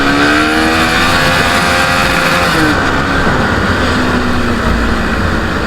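Motorcycle engine on a test ride along a narrow road: loud, steady engine drone close to the rider, pitch rising and falling as it revs, with heavy wind rush throughout.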